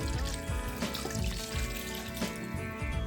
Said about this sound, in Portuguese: Eu vou colocar a princípio meio litro de vinho de boa qualidade